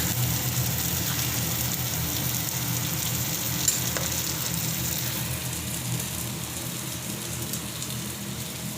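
Pickled mustard greens and shiitake mushrooms stir-fry in a pan, giving a steady close sizzle and crackle that runs the whole time, with faint scraping and no talk.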